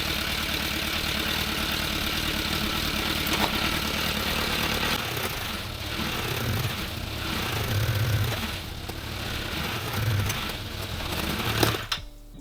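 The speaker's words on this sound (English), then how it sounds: "postponing to actually get the engine running was worth it" A motorcycle engine fitted to a quad bike runs and idles steadily with a dense, buzzing mechanical drone, slight rhythmic surges in the low end, and a sudden cutoff at the close.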